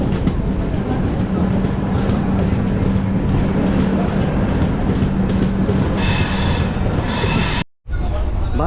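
The Sanghamitra Express pulls out of Bangarpet railway station after a short halt, giving a steady loud rumble of wheels and carriage noise heard from inside a 2AC coach, with rising squeal and clatter near the end.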